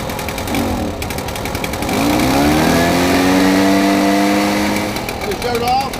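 Small fire station lawn equipment engine, just taken off choke, settling into idle with a steady buzzing putter and slight pitch wobble, loud and close, with someone speaking over it.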